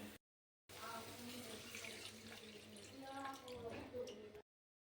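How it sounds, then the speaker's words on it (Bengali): Water poured into a pan of simmering curry for papaya kofta curry, a continuous splashing pour of about four seconds, close, with a voice faintly underneath. "এবার আমি তাতে পরিমাণ মতো জল দিয়ে দেবো"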